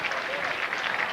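Steady applause from a crowd of fans after a final dive at the 1999 Illinois High School State Championships men's 1-meter springboard diving, a dense, even patter of clapping throughout.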